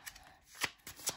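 Tarot cards from a small Kawaii Tarot deck are shuffled by hand, giving a few quick, close riffling bursts with soft papery slaps and no voices.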